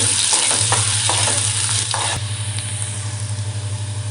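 Onion sautéing in oil for a Konkan dried-prawn dish, a loud steady hiss of frying with intermittent spatula scrapes over a low constant hum.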